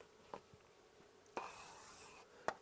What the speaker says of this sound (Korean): 여기다 써볼게요